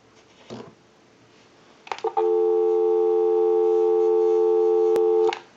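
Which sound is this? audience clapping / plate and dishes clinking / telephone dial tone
telephone dial tone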